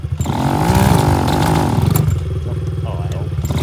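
A sputtering small engine runs rough after being choked, its loud rapid popping and uneven revving close by, with people talking over it.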